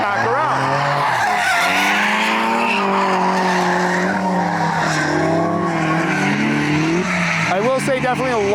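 Drift cars at a grassroots drifting event in the Midwest skid with long, loud tire squeals over rising and falling engine revs. The noise runs continuously and close, and a fresh screech sets in near the end.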